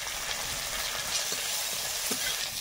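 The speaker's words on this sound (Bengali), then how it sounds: "একটু লাল লাল করে মশলাটাকে ভেজে নিলাম।" Spices, onion, garlic, ginger, dried chili and bay leaf fry in a little oil in a kadai, giving a steady close hiss of sizzling with faint stirring clicks throughout.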